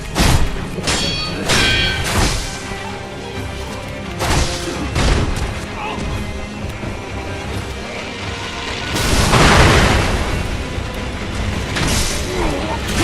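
Firecrackers prosthetic tool bursting during Sekiro: Shadows Die Twice combat, a dense run of loud booms, thuds and crashes mixed with whooshes and clanking game effects, with a burst of heavier impacts near the end.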